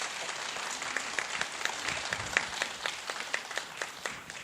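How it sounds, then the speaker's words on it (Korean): Applause from a concert audience welcoming young child composers, a moderate, distinct patter of individual claps heard fairly close, steady throughout. "지금 꼬마 작곡가 친구들이 많이 긴장하고 있을 텐데 큰 박수로 맞이해 주시면 감사하겠습니다."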